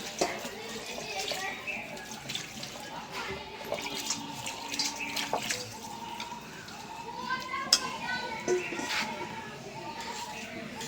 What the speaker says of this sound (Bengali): একটু পানি দিয়ে দিই।